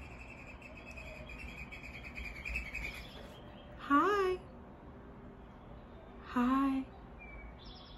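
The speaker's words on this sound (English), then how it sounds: "Y'all hear the bird?" Outdoors in the evening, a bird gives two brief, loud, sweeping calls a couple of seconds apart, with faint insect chirring behind and a quick spoken greeting nearby.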